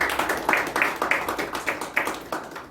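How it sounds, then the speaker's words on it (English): Audience at a club speech meeting claps in a steady, fairly close rhythm for a couple of seconds, with no talking over it. "Let us give him a round of applause."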